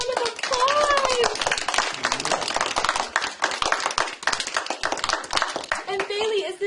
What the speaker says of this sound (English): let's give her dad a round of applause